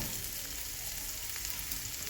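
Potatoes fry in a hot pan, with spices going in once they have browned a little, in a recipe with ridge gourd and rohu fish: a steady, soft, close sizzle and crackle that keeps going throughout, with no voices.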